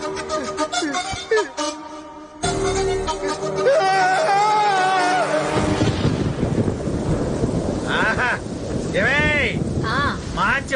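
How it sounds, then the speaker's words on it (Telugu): Rain falls in a dramatic film scene, a dense broadband hiss with rumbling, thunder-like swells. Music fills the opening seconds before the downpour takes over. "వర్షం పడుతుంది"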